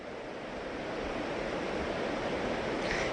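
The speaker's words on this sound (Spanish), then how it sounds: "Marta, se nota todavía ese río crecido tras lo ocurrido este fin de semana." The swollen Ara river rushes through Broto after a weekend storm, a steady, loud, broadband roar of flowing water that stays constant throughout with no voices.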